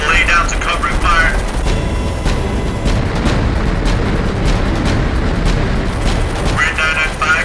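UH-1 helicopters in attack formation lay down covering gunfire in a war-film battle, a dense, loud and continuous roar of shots and blasts, with voices talking at the start and end.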